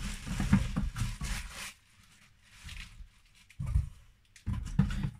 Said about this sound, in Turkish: Poşetini çıkaralım hemen.